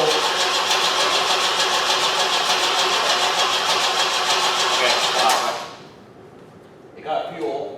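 A 1973 Opel Ascona left abandoned for years cranks loudly and steadily for several seconds as it tries to start, then cuts off to a low hum before a brief burst of noise.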